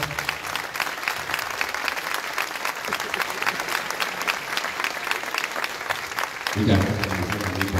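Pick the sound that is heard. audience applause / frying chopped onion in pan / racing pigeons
audience applause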